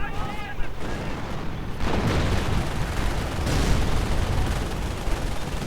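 Machine gun and artillery fire fill a World War II strategy game battle with dense, rumbling bursts and booms that continue without a break, loud and close.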